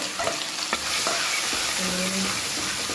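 Onion dropped into hot oil already tempered with cumin and asafoetida sizzles loudly and steadily, with a few light scrapes of a stirring spoon.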